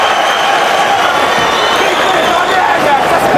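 A roaring arena crowd at a UFC event in Boston cheers loudly and steadily during McGregor vs Holloway, a dense, sustained wall of noise with no pause throughout.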